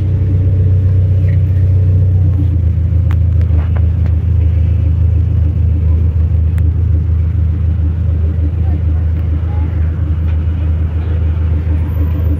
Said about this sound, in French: the driver there of this Maserati, so it's the MC20